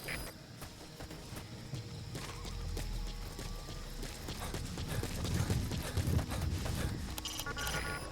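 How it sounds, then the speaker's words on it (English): A horse trots across open ground in the Metal Gear Solid V video game, its hooves giving a steady, quiet clip-clop rhythm under a continuous low ambient rumble, with no talking. "Use your horse."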